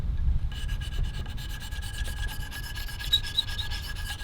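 A blade is sharpened on a 600 grit stone, giving repeated rhythmic scraping strokes, close and steady, with no voices.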